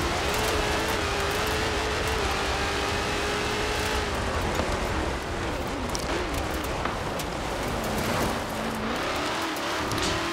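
Stock 2018 Dodge Challenger SRT driven in Forza Horizon 4: a loud, continuous engine roar fills the whole stretch, its pitch sliding up and down as the car revs and shifts, with no break.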